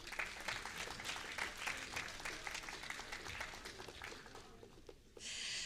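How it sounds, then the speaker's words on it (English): Audience applause at a brass band festival, sustained clapping from a large crowd that fades slightly toward the end before a brief burst of noise. "Another round of applause for them, please."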